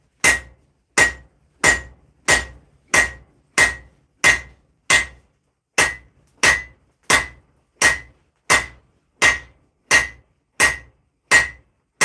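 Hammer forging a replica of Alucard's long sword from Castlevania: about eighteen sharp, ringing metal strikes at an even, deliberate pace, each blow clear and separate with brief silence between, no voices.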